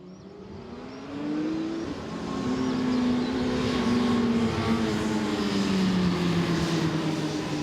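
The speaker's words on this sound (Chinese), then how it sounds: "重型机车的车手伫咧赛道向前冲" Heavy 1000cc-class racing motorcycles on a race track build from a quiet start into a loud, sustained engine roar, the pitch climbing and shifting as the bikes accelerate past at speed, with no voices.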